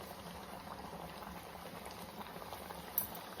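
Kombdi vada, a Malvani fried bread, puffing in hot oil over a medium flame while oil is spooned over it: a steady, fairly quiet bubbling and fizzing with no talk.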